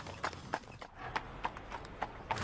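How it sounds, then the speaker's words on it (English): A horse pulling a trap clip-clops along a road, about eight crisp, evenly spaced hoof strikes sounding close and clear over faint background hiss. "Mo Francis was giving driving lessons on a horse and trap at about 6 p.m. on Tuesday, August the 22nd."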